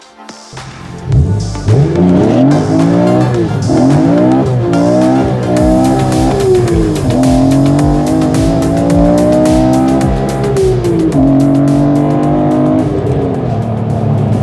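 A car on a test drive revs hard through repeated rising runs as it accelerates and shifts, loud and close throughout, with a brief tire-like squeal. No voices are heard.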